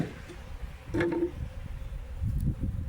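A low, droning buzz of a honey bee swarm close by as it is installed in a hive, rising and falling in intensity, with a faint rustle of movement.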